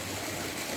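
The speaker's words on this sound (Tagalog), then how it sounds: "So, umiikot yung ating tubig." Water circulates in a circular cement fish pond, a steady dense rushing and swirling wash, close and continuous without any break.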